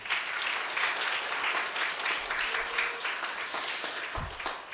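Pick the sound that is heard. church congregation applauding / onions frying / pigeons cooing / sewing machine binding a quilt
church congregation applauding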